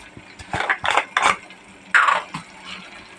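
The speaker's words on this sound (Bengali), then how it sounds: "একটু জল দিয়ে দিই, না হলে মুগের ডালটা সেদ্ধ হবে না" Water poured into a pot of mung dal in a home kitchen: a few short splashing pours and clinks of metal cookware, close by, spaced out over a few seconds.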